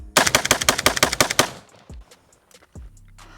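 A Stenzel SAK-21 AK rifle fires a rapid burst of close, loud shots in quick succession for about a second and a half, then the echoes and a few scattered clicks and thumps trail off into quiet.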